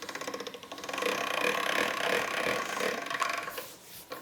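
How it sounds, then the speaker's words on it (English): Ramen dough, dusted with corn flour, cranked through a hand pasta machine, giving a close, continuous ratcheting, grinding mechanical whir with rhythmic clicks for about four seconds. "put the dough through the pasta machine and go thinner and thinner"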